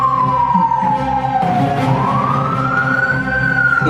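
A police vehicle siren wails loudly and close, its pitch sweeping down and then back up over a steady background rumble.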